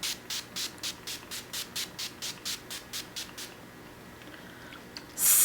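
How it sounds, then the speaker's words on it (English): Urban Decay De-Slick Setting Spray misted onto a face: about fourteen quick, evenly spaced pump sprays close to the ear, followed by a pause and one louder burst of hiss at the end. "I'm going to take the Urban Decay De-Slick Setting Spray,"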